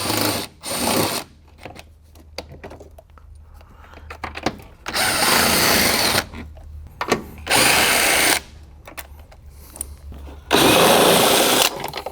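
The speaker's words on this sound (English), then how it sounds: "Now let's start pulling all these 10mm bolts that hold the tray in place." A power tool spins out the 10mm bolts holding the battery tray of a Jeep Wrangler JK, in several loud, close bursts of high whirring lasting one to two seconds each, separated by quieter pauses with handling noise.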